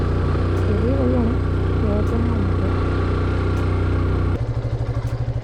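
A motorcycle rides a narrow hill road on an alternative route to Munnar, its engine a steady close drone that turns to a rhythmic pulsing near the end, with a faint voice over it.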